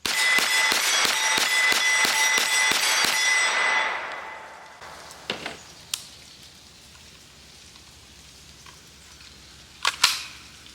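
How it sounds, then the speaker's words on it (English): A S&W Response 9mm carbine fires a rapid string of about ten loud, sharp shots at an outdoor range, evenly spaced, then a quieter stretch with a few scattered distant reports. "So I'm gonna put 10 rounds down range"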